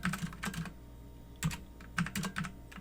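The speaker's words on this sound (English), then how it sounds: "I'll come in here and type in IP route" Close clicky keystrokes on a computer keyboard come in short bursts with pauses between, fairly faint, as a routing command is entered on a network device.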